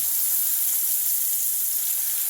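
Veal cutlets for saltimbocca sizzle steadily in a hot pan, a continuous bright frying hiss with no talk, even and close throughout.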